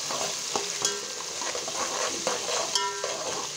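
Chopped onions and curry leaves frying in hot oil for a Bangalore-style chicken gravy, a steady close sizzle broken by several sharp clinks and scrapes of a stirring spoon against the pan.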